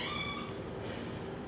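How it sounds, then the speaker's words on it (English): A young house cat gives a short, plaintive meow at moderate volume indoors, a single call fading into faint room noise. "Sorry, that was my cat."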